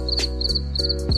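Crickets chirping inside a cricket farm cage, a steady high-pitched trill with rhythmic pulsing bursts, close and continuous with no talk.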